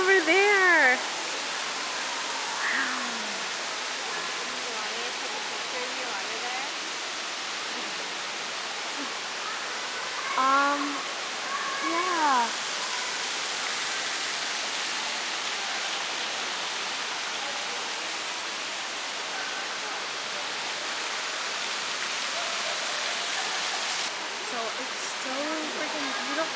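A waterfall inside a Tokyo greenhouse sends out a steady, full roar of falling water that masks other sounds throughout, while voices talk faintly beneath it now and then.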